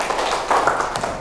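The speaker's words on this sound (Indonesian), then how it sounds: "Kalian boleh kasih tepuk tangan untuk diri kalian sendiri." Students clapping for themselves in a classroom, a brief burst of close, dense claps lasting about a second.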